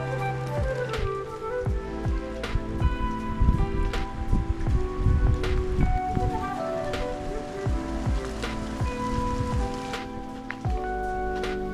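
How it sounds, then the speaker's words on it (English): Light rain patters on a forest track beside a makeshift rain shelter, near and steady, with individual drops tapping sharply and irregularly over a soft continuous wash of rainfall. "It's just raining lightly,"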